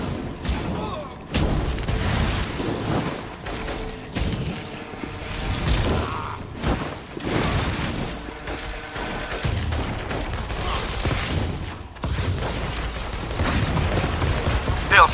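Gunfire in the action video game InFamous Second Son: dense, loud bursts of shots and clattering mechanical sounds that run steadily for about fifteen seconds, with brief gaps.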